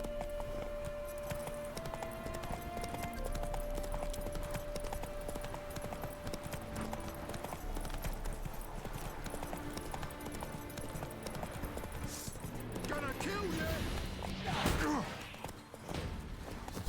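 Horse hooves clip-clop steadily in The Witcher 3 video game, a continuous walking rhythm set against game music and ambient sound, with a brief thump near the end.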